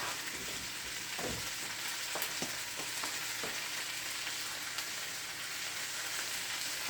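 Chicken meatball sauce simmering and reducing in a pan makes a soft, steady sizzling hiss with scattered pops and faint stirring clicks, close up and without talk.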